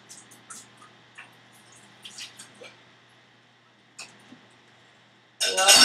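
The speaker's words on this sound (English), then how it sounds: "I love the water going down the drain." Water in a sink drips and trickles in scattered, faint splashes, then breaks into a sudden loud rushing gurgle as it runs down the drain at the end.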